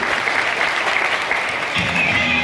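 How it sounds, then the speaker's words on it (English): A group of people on a tour in Subic, Zambales clapping their hands together in a steady burst of applause, with a shift in background noise partway through. "Clap your hands, everybody."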